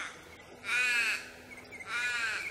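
An 80m direction-finding receiver in whoopee mode puts out two rising-and-falling electronic warbling tones, each about half a second long, separated by a brief gap over a quiet hiss.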